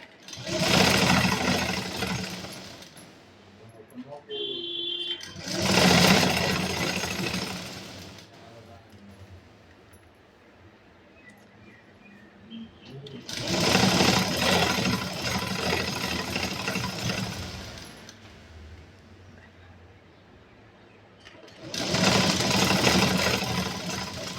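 A sewing machine stitches a straight seam on an eight-panel skirt in four separate bursts of rapid whirring, each a few seconds long and separated by quieter pauses.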